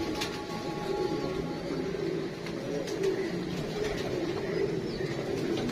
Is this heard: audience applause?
no